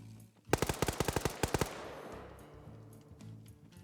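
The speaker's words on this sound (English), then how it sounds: "Mal taking flanking fire from Kabubi." A rapid burst of roughly a dozen sharp gunshots rings out in a PvP video game match, followed by a fading echo and quieter background game noise.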